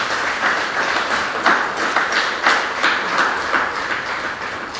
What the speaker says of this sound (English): So let us give them a round of applause.